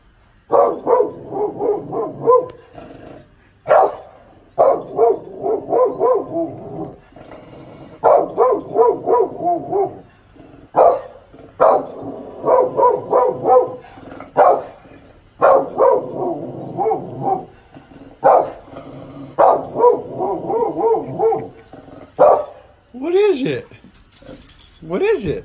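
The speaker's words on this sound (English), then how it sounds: "Barking at Lombardi." A dog named Lombardi, called Coach Lombardi, barks in repeated short bursts close by, spread through the clip in regular clusters, with people talking over and between the barks.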